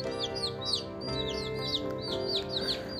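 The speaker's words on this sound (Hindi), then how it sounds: "ये है मेरे चूजे, प्यारे चूजे" A brood of baby chicks chirps busily close by, a steady stream of high, repeated peeps overlapping throughout with no talking.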